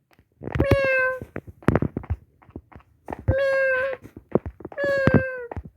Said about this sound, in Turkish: Aa kedileri oldu.